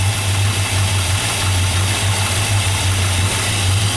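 A 1957 Chevrolet Bel Air V8, somewhat cold-blooded, idles steadily up close with an even low throb and no revving, and nobody speaks.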